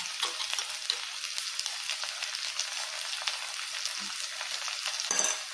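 Ground prawn paste fries in a hot pan, a quiet, steady sizzle and crackle that stays even throughout, with a few faint stirring scrapes and no voices.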